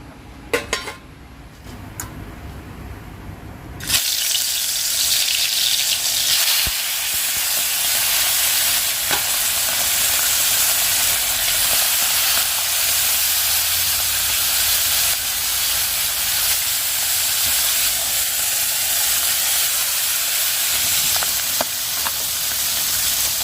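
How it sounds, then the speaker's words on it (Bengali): Fish fries in a kadai, a steady loud hiss and sizzle of hot oil close by, continuing unbroken for about twenty seconds after a quieter opening, with occasional faint clinks. "ওই কড়াইটার মধ্যেই মাছটা ভেজে নিচ্ছি"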